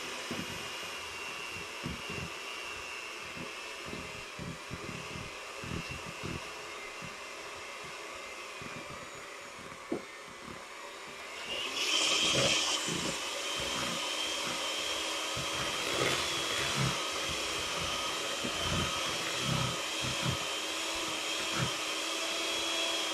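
An electric mixer whirs steadily while beating cream cheese, sugar and other ingredients into a pumpkin roll frosting. The motor drones loud and continuous, growing harsher and louder about halfway through as it works the mixture, with a few knocks against the bowl.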